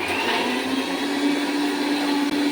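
Steady, continuous whir of an electric grinder blending spice paste for a rainy-day dinner, loud and unbroken throughout with no talk.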